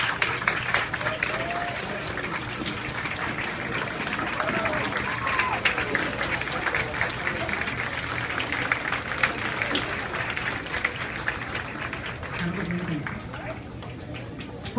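Sustained standing ovation at a 9th-grade graduation ceremony, dense crowd clapping that continues evenly for about fifteen seconds, with a few voices and cheers mixed in.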